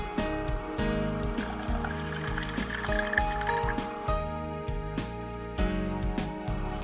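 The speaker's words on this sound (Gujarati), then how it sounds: "ખાંડ ડૂબે તેટલું પાણી લઈશું" Water is poured over sugar in a kitchen to make syrup for a sweet made with mawa, a wet splashing and trickling under steady background clatter and hum, with no speech.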